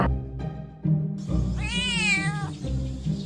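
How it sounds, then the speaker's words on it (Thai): Cartoon cat gives a single drawn-out, wavering meow in the middle of the clip, clear and close, over a steady low background tone. "ในวันหนึ่งที่เจ้าเหมียวข้างบ้านมาเล่นที่บ้านฉัน"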